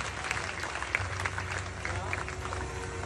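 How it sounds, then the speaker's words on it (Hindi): Audience applause at a Havanatmak Maha Rudra Yagya temple event, a fairly faint, steady patter of clapping from a gathered crowd with a low hum and murmuring voices mixed in. "तो इनके लिए एक बार जोरदार तालियां"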